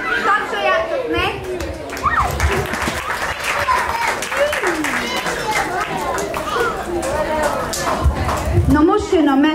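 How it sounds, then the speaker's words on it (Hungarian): Children's day audience applauding at an indoor show, steady clapping mixed with crowd chatter and children's voices, with a voice speaking over it throughout. "Tapsoljátok meg."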